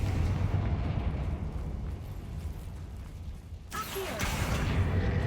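A Confringo fire spell blasts in Hogwarts Legacy, a deep, rumbling explosive roar that swells and fades, then a second sharp whooshing burst of fire bursts loudly near the end.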